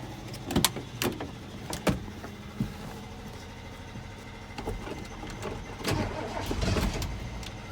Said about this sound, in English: See if the old Ford will start.